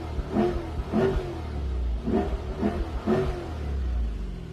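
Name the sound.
Chevrolet Corvette engine revving, manual paddle-shift gear changes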